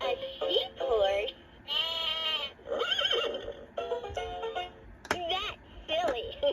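A toy magnetic farm animal set plays a short sheep bleat between bursts of sung or spoken children's-toy voice, the bleat wavering and close, with other animal calls like a horse whinny mixed in.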